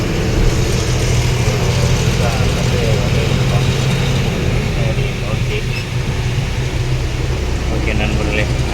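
A vehicle engine running during a road trip from Pondicherry to Delhi, a steady loud drone with rumbling road noise and mechanical rattle throughout, continuous and unbroken.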